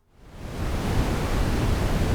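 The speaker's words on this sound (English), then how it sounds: "Red noise." Deep, rumbling red noise from a VCV Rack synthesizer swells in from silence and settles into a steady, dark roar with no voices.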